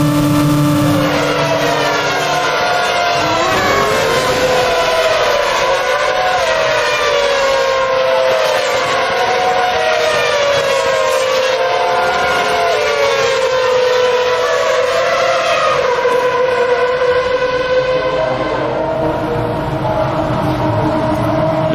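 A Ferrari Formula 1 car leaving the pits at the 2007 French Grand Prix, loud high-pitched engine whine rising and shifting through gears as it accelerates away, with other race cars screaming past, no talk.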